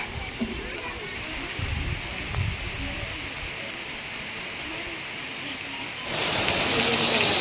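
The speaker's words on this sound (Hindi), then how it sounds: "ଆଉ ଦେଖନ୍ତୁ ପାଗ କେମିତି କୋହଲା ରହିଛି, ଆଉ ପବନ ଆଉ ଝିପଝିପ ବର୍ଷା ପକାଉଛି।" Wind and light drizzling rain outdoors make a steady, broad hiss that holds for several seconds, then swells noticeably louder near the end as a gust picks up.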